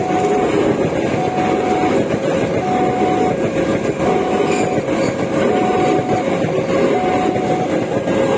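An Indonesian passenger train hauled by a CC204 diesel locomotive rolls past close by, a loud steady roar of engine and wheels with rhythmic clacking that continues throughout.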